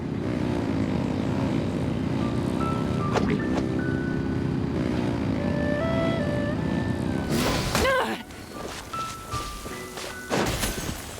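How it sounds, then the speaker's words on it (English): Engines revving in the Genshin Impact video game, a loud, sustained propeller-like mechanical drone that cuts off abruptly near the end, followed by brief rushing game sounds. "Rev the engines!"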